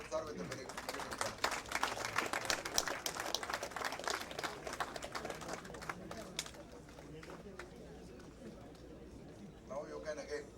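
An audience at a memento presentation during a national CMA practitioners' convention claps in dense, steady applause that fades after several seconds, with voices underneath.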